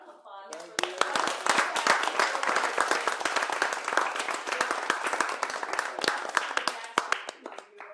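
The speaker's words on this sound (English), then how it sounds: "Round of applause." An audience at an academic conference session applauds as a speaker is introduced, a steady dense clapping with some sharp individual claps standing out, lasting several seconds before tapering.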